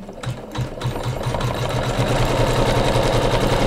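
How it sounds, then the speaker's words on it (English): An embroidery machine stitches a seam joining two pieces of a pieced flag-block pillow, producing a continuous close rhythmic mechanical chatter that steadies and grows slightly louder after a brief start-up. "we're going to stitch number 3 of the embroidery file, and it's going to seam both of these together"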